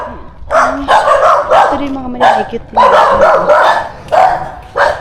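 Several dogs bark and yip in short repeated bursts near a house in Davao, loud and close, with someone talking over them throughout.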